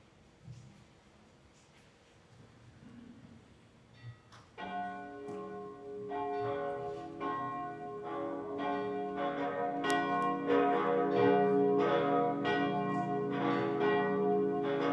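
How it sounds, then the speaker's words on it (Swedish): Church bells ring out at a cathedral's Sunday high mass, a rich peal of several bells starting around four seconds in and building to a loud, sustained, overlapping clangour after a quiet lead-in. "Då lyssnar vi strax till klockringningen."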